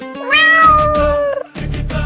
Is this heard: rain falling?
no